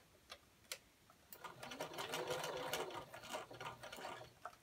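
A sewing machine stitches the edge of a nine patch pillow, a steady close whir of rapid needle strokes running for several seconds after a few soft clicks, fairly quiet with no talking.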